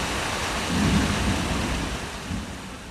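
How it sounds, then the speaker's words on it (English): Violent thunderstorm with heavy steady rain and a low rolling rumble of thunder swelling midway through, broad and enveloping with no voices. "Through the violent storm,"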